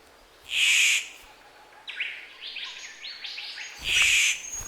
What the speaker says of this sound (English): The dapper bird belts out a seductive squawk.